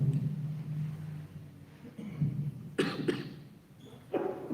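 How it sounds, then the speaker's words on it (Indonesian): A few hoarse coughs break through a murky, noisy background during a mosque lecture, one after another near the middle and end, close and fairly loud. "Maaf, agak batuk."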